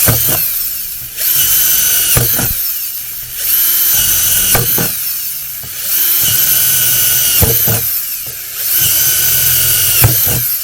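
Repeated bursts from a little power drill punching small drainage holes around the edges of a plastic container, each whirring run lasting a second or two, separated by quiet gaps, up close with no talking.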